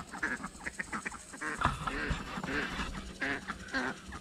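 A duck in a winter vegetable garden quacks and honks repeatedly in short, close bursts, fairly loud, with faint background noise between calls.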